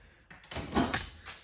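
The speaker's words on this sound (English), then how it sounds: "close this drawer right here." A drawer on a tool chest slides shut, a short rolling scrape followed by a muffled thud at close range, with soft clatter after it.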